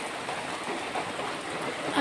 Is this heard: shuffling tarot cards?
no